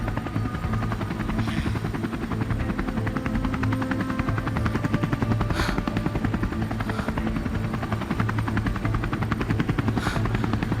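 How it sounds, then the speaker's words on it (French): A helicopter sound effect plays in a stage production of 1984, a continuous loud rotor chop with rapid rhythmic beating and low engine drone, steady throughout. "Un hélicoptère glisse entre les toits."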